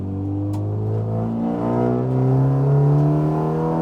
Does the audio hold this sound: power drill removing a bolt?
no